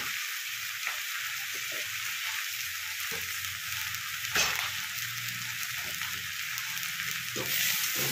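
Turmeric and Kashmiri chili spice frying in oil for a potato, cauliflower and kohlrabi curry, a continuous close sizzle broken by a few soft stirring clicks and scrapes, steady throughout with no speech.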